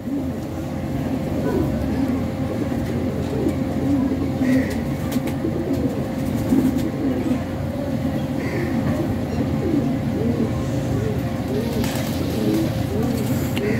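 Pigeons coo repeatedly in soft, rolling phrases close by, under a low background rumble while people talk.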